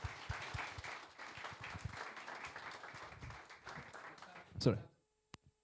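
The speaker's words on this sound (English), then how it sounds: "Let's give Maxi a round of applause" Applause from a tech meetup audience for a speaker at an IT event, steady clapping with some voices under it, ending in a sudden loud bump and then near silence.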